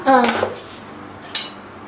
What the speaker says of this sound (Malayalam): ഗ്യാസ് ഓൺ ചെയ്ത് കുക്കർ അടയ്ക്കണം